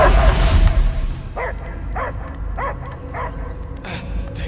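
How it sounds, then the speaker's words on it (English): A dog barks in the Guardians of the Galaxy video game, a series of five or six evenly spaced, mid-loud barks over a low rumbling game ambience after a dense opening swell. "I hear only barking."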